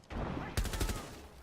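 Bursts of rapid gunfire in a video game shootout during a competitive league final, several sharp shots clustered in quick succession after a brief lead-in, fairly quiet and fading away at the end.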